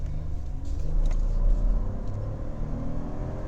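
A 2018 Ford F-150 XLT SuperCrew 4x4 pickup engine rumbles and swells as it accelerates in sport mode, a low steady roar building and holding, heard from inside the cab.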